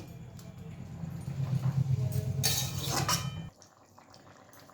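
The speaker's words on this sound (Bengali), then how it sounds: "গরম মশলা দিয়ে আমি একটু ফুটতে দিলাম" Papaya and chana dal curry seasoned with garam masala bubbles steadily in a pot, a soft continuous simmer that runs for a few seconds before cutting off to near quiet.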